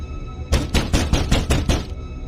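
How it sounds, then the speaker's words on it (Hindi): Sharp knocks on a door at midnight, six firm evenly spaced raps in a quick run, close and loud over a faint steady background hum. "अचानक आधी रात के समय दरवाजे पर दस्तक हुई"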